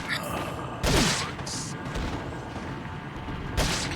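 Short bursts of submachine gun fire from the TMP in Resident Evil 4 on professional difficulty, a few separate rattling volleys with quieter game sounds between them.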